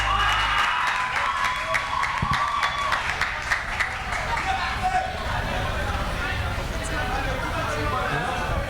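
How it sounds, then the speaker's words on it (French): An audience at a youth talent show semi-final applauds after a singing performance, with dense, steady clapping and crowd noise that carries on under a speaking voice. "nous applaudissons"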